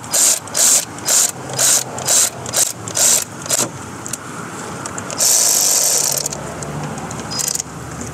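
A socket wrench ratchets 8 mm nuts down on the throttle body of a 2007 Honda Fit GD3. Several loud, evenly spaced bursts of clicking come up close, followed by a brief scraping, rushing noise.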